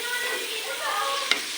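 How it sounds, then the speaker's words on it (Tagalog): Garlic and onion sauté in a pan with a brief, even crackling sizzle, ending with a single sharp scrape of a utensil. "Hintayin na lang natin na ma-brown-brown yung bawang at sibuyas"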